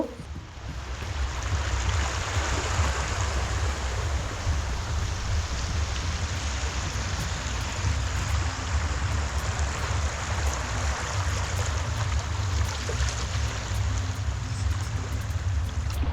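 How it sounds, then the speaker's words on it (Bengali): Calm sea at Tajpur beach in West Bengal: a steady, soft wash of gentle surf and water noise with a low rumble, continuous and even throughout, with no talking. "এখানে সমুদ্র একদম শান্ত"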